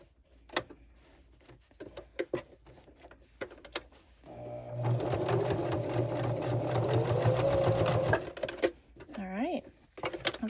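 Sewing machine stitching a shirt onto a memory towel, with sparse handling clicks and taps, then a steady mechanical whir running for several seconds before stopping, and a voice speaking faintly at the end.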